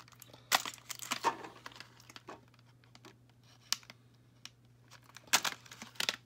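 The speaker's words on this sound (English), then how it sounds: "I gotta slice through this tape that's on the side." A blade slices through tape on the side of a Barbie Design Activity Locker box, giving sharp crinkling rips and tearing bursts at irregular intervals over a low steady hum, close and fairly quiet.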